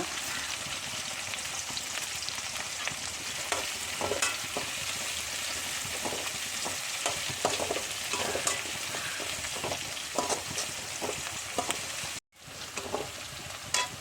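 Garlic, green chilies and curry leaves fry in hot oil for an okra stir-fry, giving a steady, close sizzle with occasional scraping stirs and no talking.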